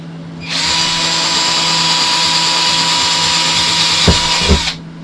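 A power drill whines steadily at close range for several seconds while drilling holes in a Holiday Rambler fifth-wheel trailer kitchen, then two sharp bumps as it bites through material before it stops.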